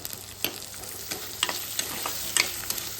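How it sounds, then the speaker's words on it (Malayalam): Onion and spice masala with green chillies sautéing in a pan for tuna curry, giving a soft steady sizzle with quick spoon scrapes and taps against the pan, close by and without talk. "ഇത് നല്ലോണം ഒന്ന് വഴണ്ട് വരട്ടെ"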